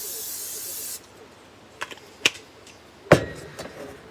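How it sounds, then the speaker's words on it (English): A steady, bright spray hisses for about a second, then stops, followed by a few scattered light clicks and taps. "We're going to spray some cooking spray on top of those too."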